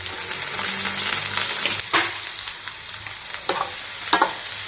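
Onions fry in hot oil with curry leaves in a pan for Mangalore-style chicken sukka, a steady bright sizzle with a few scraping stirs and clinks, close and without voices.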